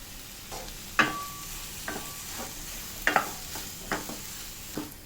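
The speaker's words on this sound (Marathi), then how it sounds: "आता आपल्याला हे मसाल्यामध्ये घालायचं आहे पाहू शकता तुम्ही आता आपल्या मसाल्याला तेल सुटलेलं आहे पण थोडं तेलात भाजून घेऊया" Soybean pieces fry and get stirred into an oily spice masala in a pan, a steady soft sizzle broken by several sharp scrapes and clinks of a spoon against the vessel, close and with no talking.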